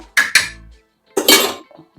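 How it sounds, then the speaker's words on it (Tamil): Metal cooking pots and pans clank as they are picked up in a home kitchen: two quick close clinks, a pause, then a longer rattling clatter and a few faint taps. "பாத்திரம் எடுக்கிற வேலையை தான் பார்க்க போகிறோம்"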